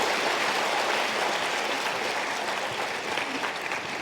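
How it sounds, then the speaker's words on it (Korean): An audience at a housing cooperative members' meeting welcomes a presenter with sustained, dense applause that fills the room evenly, slightly tapering toward the end. "큰 박수로 맞이해 주시기 바랍니다."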